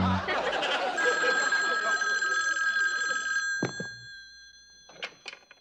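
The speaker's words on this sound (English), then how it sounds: "This is gonna be the most important phone call I've ever made in my whole entire life." A telephone bell rings continuously and fairly loud for about three seconds, followed by a couple of clunks as the receiver is picked up, with no one speaking.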